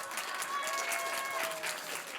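An audience at a youth talk concert applauds after a speech, steady moderate clapping filling the room with faint tonal sounds over it, continuous from start to finish.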